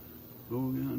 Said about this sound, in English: I see bees.